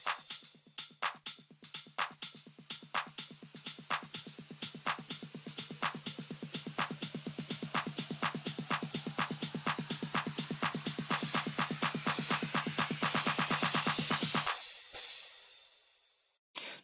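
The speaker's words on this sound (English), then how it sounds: "So the riser sounds like this." A riser effect in a music production remake, a bright pulsing buzz whose repeats speed up steadily over about fifteen seconds before cutting off abruptly, played alone.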